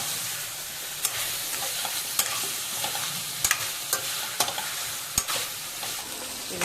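Chicken curry with chili powder and spices sizzles in a pan while a utensil scrapes and stirs, a steady close frying hiss broken by sharp clinks and scrapes at irregular intervals, with no voices.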